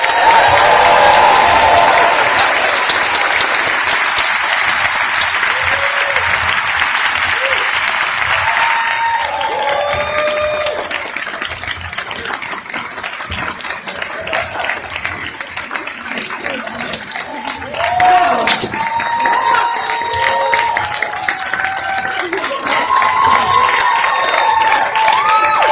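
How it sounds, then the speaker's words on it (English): A large crowd, mostly actors and SAG members, applauds and cheers loudly at a film event, with dense clapping throughout that thins slightly midway before swelling again with shouts. "And this is a huge crowd here, obviously."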